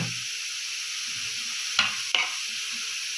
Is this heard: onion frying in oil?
yes